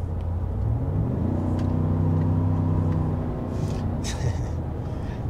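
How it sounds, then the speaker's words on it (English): Chevy Silverado 5.3 engine with a new throttle body, revving up from a low rumble to a rising, held growl, loud and close. "All right, let's give this thing some gas."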